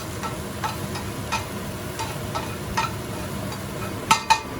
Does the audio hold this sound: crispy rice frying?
yes